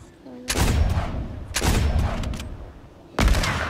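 Three loud, close gunshots ring out from a video game trick shot map, each a sharp blast with a long echoing tail, spaced about a second or more apart, with no talking.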